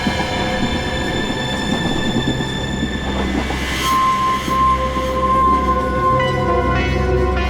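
A train running on rails, loud and close, with a continuous rumble of wheels, rhythmic clatter, and a thin metallic squeal rising in the latter half, with no speech over it.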